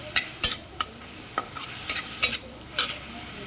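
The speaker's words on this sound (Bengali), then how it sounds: "1-2 মিনিট একটু ভাজতে দেবে।" Onion, curry leaves and mustard seeds frying in a pan, a low continuous sizzle punctuated by about eight crisp spatula strikes and scrapes against the metal, heard up close without speech.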